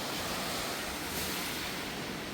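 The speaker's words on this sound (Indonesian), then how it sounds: "sambil mendengar suara ombak" Ocean waves wash onto the shore of Keluang Island in Aceh Jaya, a steady dense roar of surf with some wind, heard alone and up close.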